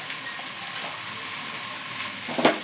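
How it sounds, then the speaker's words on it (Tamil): Beans and chayote sautéing in a pan give a steady, moderately loud sizzle with faint scraping, and a brief stirring clatter near the end. "பீன்ஸ் போடலாம் நல்லா வதக்கலாம் சவு சவு போடலாம்"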